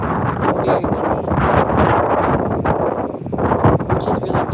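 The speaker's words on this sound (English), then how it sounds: "it's very windy" Strong wind buffets the microphone in a continuous, rumbling roar that swells and eases, with no clear voices, between rows of an organic broom corn field.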